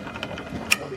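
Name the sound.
ratchet loosening bolts on BMW 1M downpipes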